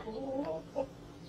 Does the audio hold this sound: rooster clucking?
yes